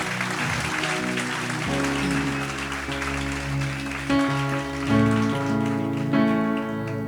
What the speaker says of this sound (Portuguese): dá uma salva de palmas bem forte a Jesus